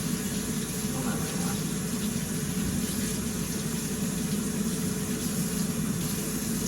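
Kitchen tap water pours in a steady, unbroken stream while produce is washed, a constant rushing hiss with no pauses.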